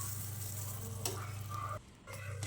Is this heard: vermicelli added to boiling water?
yes